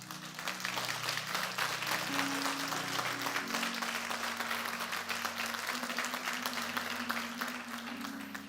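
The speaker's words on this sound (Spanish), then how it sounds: "Dele un aplauso al Señor." A church congregation claps together for the Lord during a Spanish-language service: a broad, sustained wash of hands, with low sustained musical tones and a faint murmur of voices underneath.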